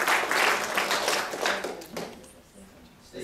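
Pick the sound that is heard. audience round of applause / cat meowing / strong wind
audience round of applause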